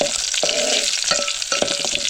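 Onion, garlic and curry leaves crackle in hot oil as a tempering for village-style chicken curry over a wood-fired chulha, with a steady bright sizzle broken by a few sharp pops and stirring clinks.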